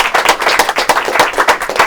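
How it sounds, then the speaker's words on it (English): A small group claps at a board meeting. The applause is a brisk, dense patter of many hands that stays steady and close throughout. "I think that deserves a round of applause"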